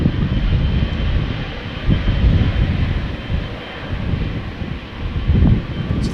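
KLM's Boeing 777-300 Orange Pride, registration PH-BVA, a 16-year-old jet bound for Sao Paulo, takes off at Amsterdam Schiphol with a loud, close, rumbling engine roar, swelling and easing in waves, with gusty wind buffeting the microphone.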